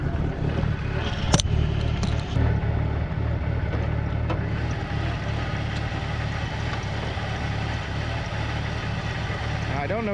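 A 1998 Jeep Cherokee XJ engine idles under an open hood with a steady low rumble and the faintest unevenness in its firing, a sharp click early on and a continuous close-up drone throughout.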